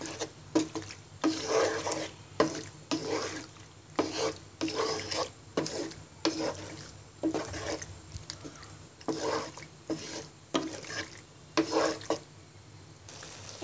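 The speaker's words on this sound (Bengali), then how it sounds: "এবার ভালো করে নেড়ে পাস্তার সাথে সব মশলা মিশিয়ে নিব।" Pasta stirred in a pan with a cup of milk and spices, repeated rhythmic scraping and wet swishing strokes of a spoon, close and moderately loud, with no talk.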